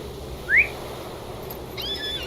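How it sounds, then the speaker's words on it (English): A short rising whistle calls a horse in the Lord of the Rings Online game in Minas Tirith, heard once against a steady ambient background, followed a moment later by a faint tonal chime. "Whistling for the horse and the audio."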